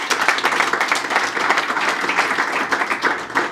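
Audience applause at an event in a commercial bank setting, a steady wash of many hands clapping at moderate distance, continuous throughout with no pauses.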